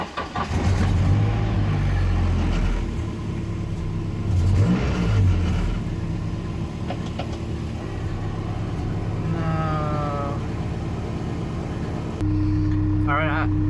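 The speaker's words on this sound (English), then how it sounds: "I was just blipping the throttle" A Toyota AE86 with a KA engine starts up and settles into a loud, close idle, with the throttle blipped so the revs rise and fall, and a voice talks briefly near the end.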